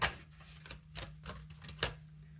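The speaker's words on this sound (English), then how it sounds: "I'm going to shuffle these cards really well." Tarot cards being shuffled in a few quick riffling bursts, close and fairly quiet, with soft handling noise between them.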